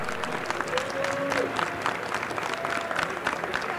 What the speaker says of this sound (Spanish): Muy fuertes aplausos, por favor.